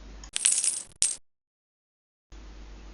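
Coins drop with a short bright metallic jingle, then a second quick clatter, followed by a brief silence.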